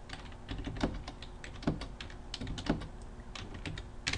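Keystrokes on a computer keyboard entering numeric test values, a steady run of close, crisp clicks with a few louder presses spaced through it, no voices.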